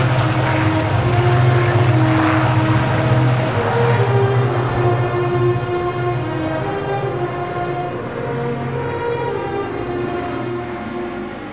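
An Avro Shackleton maritime patrol aircraft, Pelican 22, drones overhead in flight, its piston engines giving a loud, steady tonal roar that slowly fades a little as it passes.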